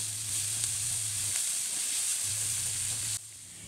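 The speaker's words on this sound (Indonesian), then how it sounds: "Ini aku masaknya pakai minyak sedikit ya teman-teman" Sambal kering frying in a small amount of oil in a pan, a close, continuous crackling sizzle with faint stirring scrapes, a low hum underneath in places, and the sizzle easing slightly at the very end.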